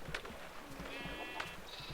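Minecraft sheep bleating several times in a soft, steady backdrop, the calls overlapping a little and sounding moderately close.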